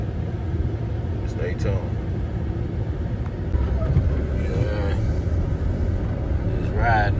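Steady low car engine rumble and road noise from inside a moving car, continuous throughout, with someone talking over it and the rumble growing slightly louder partway through.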